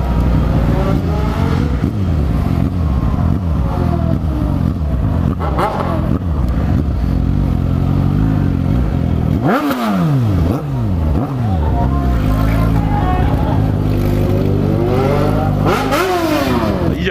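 A Suzuki SRAD 1000 motorcycle engine revs loud and close, rising and falling repeatedly with sharp throttle blips and gear-like sweeps, a steady rumble underneath throughout.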